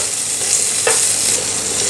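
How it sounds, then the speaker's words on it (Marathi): Potatoes sizzle loudly and steadily as they fry in hot ghee, with a brief scrape of stirring partway through. "त्यासाठी सुरुवातीला थोडंसं त्याचं तुपावरती परतून घेऊयात"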